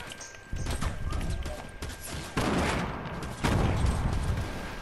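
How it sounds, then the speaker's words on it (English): Rapid bursts of gunfire crackle in a Fortnite match, with dense, rattling volleys that come in several waves and grow louder toward the end, alongside busy game noise. "Guys, I'm getting shot at."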